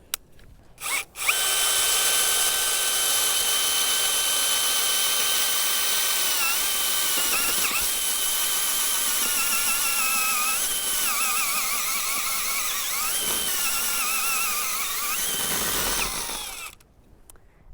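A power drill driving a garden auger into soil whirs loudly for a long stretch, its pitch wavering slightly as it bores under load, then stops abruptly.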